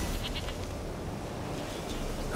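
A goat in The Witcher 3 bleats in a short burst near the start, followed by a steady wash of in-game ambience.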